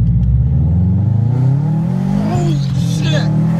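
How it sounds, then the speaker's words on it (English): A stage two Subaru STI accelerates hard, its engine note climbing steadily in pitch through a gear, close and loud, with a voice calling out over it. "I am driving an STI for the first time, and this thing's pretty fucking fast"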